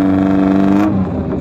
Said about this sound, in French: La numéro 19, pilotée par Lebrun Olivier, replaqué Caterham, moteur Ford Pinto 2 litres 600 de 80 chevaux.